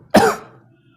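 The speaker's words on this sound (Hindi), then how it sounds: "बहुत खांसी परेशान करते हैं" A single sharp, close cough bursts out and quickly fades into quiet.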